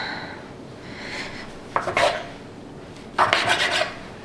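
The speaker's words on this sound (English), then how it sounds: "we are gonna cut this into 12 pieces and roll it into balls" A dough cutter slicing bread dough for pull-apart dinner rolls, two short scraping cuts against the work surface, close and moderately quiet, with no voices.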